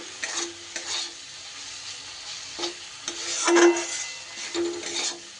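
Coriander powder and spices being stirred and fried in a pan, with repeated scraping strokes over a steady sizzle, louder bursts recurring every second or so at close range.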